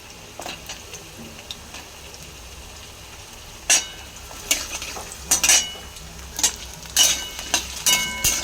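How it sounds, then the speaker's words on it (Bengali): Potatoes fry in an old, blackened wok with a soft, continuous sizzle, while a spatula scrapes and clinks against the metal in short, irregular bursts. "এগুলো আলুটাকে ভালো করে ফ্রাই করে নিয়ে তারপরে ঝিঙেটা দেবো।"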